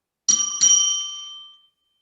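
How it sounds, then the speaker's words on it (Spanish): An electronic bell chime sounds alone twice in quick succession, bright and clear, with the second stroke ringing out and fading over about a second, marking time remaining in a conference talk. "Pasados estos minutos, escuchará este timbre"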